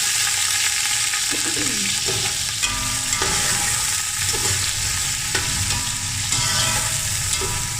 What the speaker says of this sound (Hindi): प्याज को फ्राई करेंगे गोल्डन, हल्का सा गोल्डन होने तक इसे फ्राई करेंगे प्याज को।